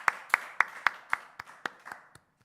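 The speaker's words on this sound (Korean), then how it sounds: "박수." A church congregation at a Wednesday worship service claps in a brief round of applause, eight or nine sharp, evenly spaced claps that slow and fade out.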